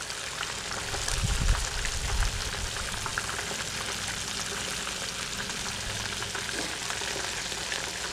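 Bluegill and crappie panfish frying in deep grease, a steady crackling sizzle that runs continuously, with a brief low thump of handling early on as the fish are rolled over.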